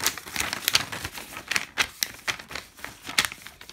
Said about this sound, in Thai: ใช้ซองสีน้ำตาลนะคะซองจดหมายสีน้ำตาลของญี่ปุ่นเนี่ยนะคะแล้วก็ใส่เม็ดแปะกล้วยลงไปค่ะ